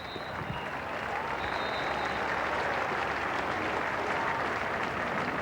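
A cricket crowd at the Sydney Cricket Ground applauds during the 1993-94 Mercantile Mutual Cup final between New South Wales and Western Australia, steady, continuous clapping spread across the stands.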